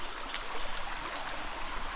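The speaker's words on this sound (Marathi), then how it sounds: "पाऊस पडलेला आहे त्याच्यामुळं ओढा वाहतोय" A forest stream running after rain, beside farmland below wooded hills, makes a steady, soft rushing and trickling wash of water that stays even throughout, with no voices.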